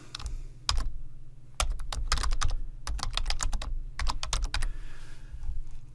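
Clicky bursts of typing on a computer keyboard while a template description is entered in lab software, quick irregular keystroke clusters separated by brief pauses, close and fairly quiet with no voices.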